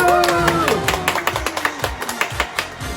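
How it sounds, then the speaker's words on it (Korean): Children and leaders at a kids' online church service clap together: a steady run of close, rhythmic hand claps that follows a brief tonal, musical sound at the start. "우리 박수!"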